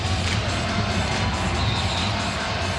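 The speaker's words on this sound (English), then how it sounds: "Yeah, the crowd really responding too." Arena crowd noise at an NBA basketball game between the New York Knicks and Los Angeles Lakers, a dense, steady roar of cheering fans filling the space without letting up.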